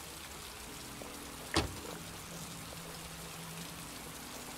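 Rain falls steadily in the video game Heavy Rain, a soft continuous patter heard at low volume, broken by one sharp brief thud partway through.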